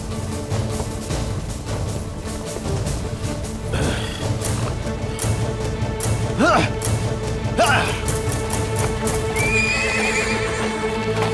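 Horses neigh and whinny, and hooves clip-clop steadily in a historical drama battle scene. Loud whinnies ring out over a constant bed of music and movement, and a voice speaks briefly.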